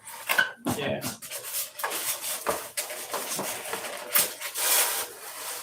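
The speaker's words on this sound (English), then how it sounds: "I got 40 grit sandpaper." Coarse 40-grit sandpaper is rubbed over a block of foam, with uneven back-and-forth scratchy strokes at close range and pauses between passes. Occasional voices and handling noises mix in.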